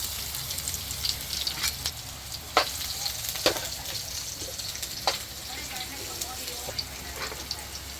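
Garlic and onion sautéing in a pan for ginisang upo, a steady crackling sizzle broken by spatula scrapes and taps, with a faint voice in the background.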